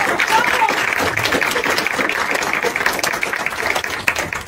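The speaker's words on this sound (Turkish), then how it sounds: "Kocaman alkışlar" Audience applauding after a children's theatre performance: steady, dense clapping from a crowd throughout, fairly loud and continuous with a brief louder burst near the end.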